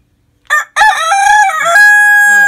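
A free-range rooster crows loudly and close by: a short opening call, a brief gap, then one long drawn-out cock-a-doodle-doo ringing out alone with no talk.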